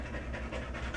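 Dog panting quickly and steadily at close range, a rhythmic series of soft breathy puffs at moderate volume, heard alone on a sunny day after a tropical storm.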